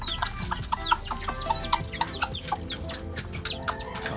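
Hungry chicks and hens cluck and peep busily nearby on a backyard poultry setup, a steady stream of short chirps and clucks with no talking over them.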